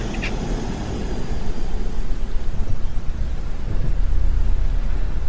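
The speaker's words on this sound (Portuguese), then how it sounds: "Mas a chuva caiu, torrencial." Torrential rain pours down steadily and loudly, with deep thunder rumbling underneath that swells after the first second and stays heavy to the end.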